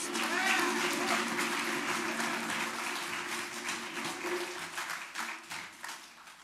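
An audience at a Malcolm X Day event applauds someone speaker, dense clapping at moderate distance that gradually thins and fades, with voices and a tonal hum underneath.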